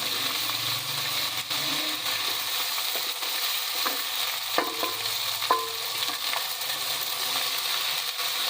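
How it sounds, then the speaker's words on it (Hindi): Onion frying in a pan with garlic-ginger paste gives a steady close sizzle throughout, with a few light scrapes and clinks from stirring and no voices. "ये देखिए माशाल्लाह हमने लहसुन अदरक को भून लिया है।"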